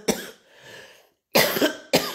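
A person coughs close to the mic in three bursts, a short rasping one, a longer harsh cough after a pause, then another.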